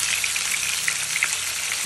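Silver carp belly pieces fry in hot oil with a steady, dense crackling sizzle and occasional louder spits, close and continuous, with no talk.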